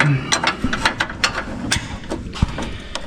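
Metallic wrench work loosening a cam bolt on a lowered GMC truck: a string of sharp ratchet clicks and clanks in uneven rhythm, close and fairly quiet, with one heavier knock partway through.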